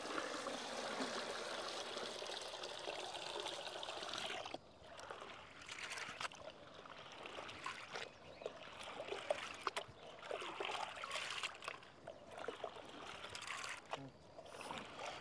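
Lentils (dal) that have soaked five to six hours being washed in clean water, a steady rushing and trickling of water with faint splashes and stirring, continuous and close, with a short break near the middle.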